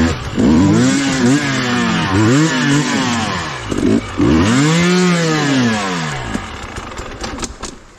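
An off-road trail motorcycle on a mountain trail revs hard and loud at close range. The engine climbs and falls in repeated surging pitch sweeps, then settles into a rougher, choppier idle.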